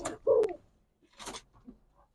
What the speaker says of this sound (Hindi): इधर इन एरियाज में फयाज भाई ने कबूतरबाजी की है